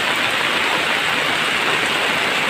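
Heavy typhoon rain pours down steadily in a dense, loud, unbroken roar, the rushing sound of floodwater blending in throughout.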